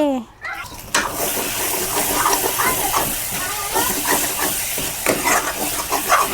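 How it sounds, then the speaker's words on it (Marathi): Tomato chutney being stirred in a pan, a steady hiss and scraping churn with a sharp clatter near the start, continuous and close. "मी आता एक वेळ टमाट्याची चटणी फिरून घेतो"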